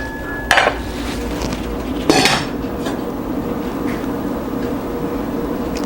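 Mushroom soup stirred in a pot with a utensil: two sharp metallic clanks of the spoon against the pot, then a steady low bubbling and kitchen background, close and without talk.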